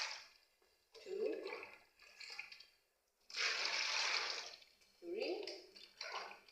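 Dilute soap solution for laundry bar soap is poured out in separate splashy gushes while measuring litres, several bursts of liquid pouring with pauses between, close by and fairly quiet.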